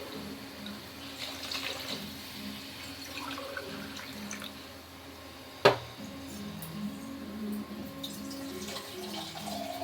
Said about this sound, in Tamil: அதனால 3 கிளாஸ் தண்ணி ஊற்றுறேன்.